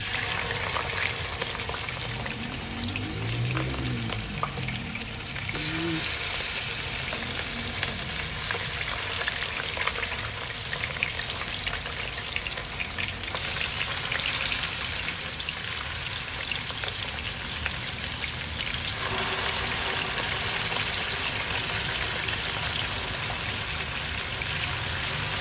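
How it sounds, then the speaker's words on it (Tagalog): Pork tenderloin fries in a pan, giving a continuous crackling sizzle at moderate volume throughout, alone with no talk. "Fry the pork tenderloin."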